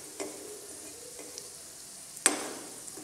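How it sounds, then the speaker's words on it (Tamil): Mustard seeds and urad dal fry in a little oil, giving a quiet, steady sizzle with a few soft pops and one sharper crackle, heard close with no talk. "பாருங்கள் நல்லா சிவக்கணும், உளுந்தம்பருப்பு சிவக்கணும், கடுகு வெடிக்கணும்"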